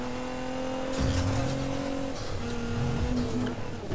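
Nissan GT-R in the Need For Speed video game, its engine droning steadily with shifting revs and a tyre squeal, loud and close throughout.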